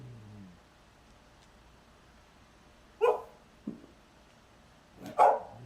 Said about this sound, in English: Does anybody have a dog that just barks at anything?